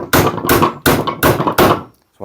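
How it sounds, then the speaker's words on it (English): Five sharp claw hammer blows knock a nail back through framing lumber in quick succession, loud and close, each a hard knock with a short ring. "take your classic claw hammer and just knock the nail"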